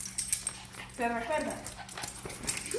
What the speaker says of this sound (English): Poor puppies.